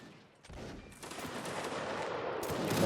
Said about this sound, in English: there's Private Oliver and the other members of the 33rd and the 32nd firing back at the enemy